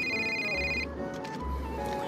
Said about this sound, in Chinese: 是我的电话